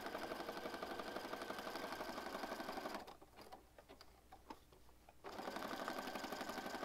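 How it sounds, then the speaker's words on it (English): A sewing machine set for zigzag stitches around paper and fabric for a junk journal, a loud close whirring chatter that runs steadily, stops for about two seconds amid small clicks, then starts up again. "I think I want to stitch around this portion and then I'm going to stitch around the outside edge. So I've got it set for zigzag."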